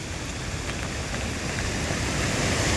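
Rushing floodwater from a swollen village river roars steadily, a loud, broad, continuous wash of water noise that barely varies in level throughout.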